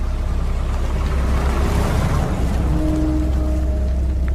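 Heavy rain pours down in a dense, continuous hiss, with a low rumble underneath that could be a car driving through the downpour.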